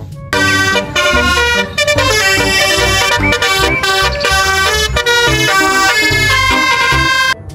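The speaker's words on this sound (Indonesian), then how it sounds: "Ada mobil bus telolet." A toy telolet bus plays its melodic multi-tone horn tune, loud and continuous with short gaps between the musical phrases.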